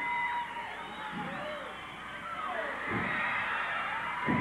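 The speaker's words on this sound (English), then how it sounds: "And the crowd picking it up." A wrestling arena crowd roars and whoops in a rising, sustained wave, with shouts swelling and falling from a distance as a commentator speaks over it.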